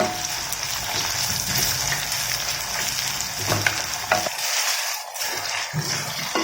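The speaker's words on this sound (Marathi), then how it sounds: "तेल आपलं छान गरम झालं की त्यामध्ये एक मोठा कांदा मी अशा प्रकारे उभा कापून घेतलेला आहे तो आपल्याला यामध्ये भाजून घ्यायचा आहे" A large sliced onion frying in hot oil for a vegetable dum biryani, a loud continuous sizzle and crackle close up, with occasional scraping from stirring and no talking.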